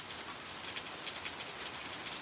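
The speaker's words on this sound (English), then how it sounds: "starting to rain a little bit heavier now." Rain falls steadily in a tornado-hit rain band in Alabama, a dense, even hiss of drops that stays loud and unbroken throughout, with no voices.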